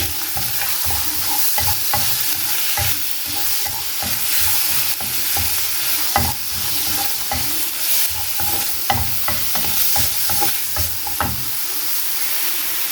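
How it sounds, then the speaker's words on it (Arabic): Chicken thigh ingredients for a mock pigeon dish sautéing in a pan, a loud continuous sizzle broken by regular scraping knocks of a spoon stirring against the pan, with no talking. "ونبدأ نشوح المكونات بتاعتنا"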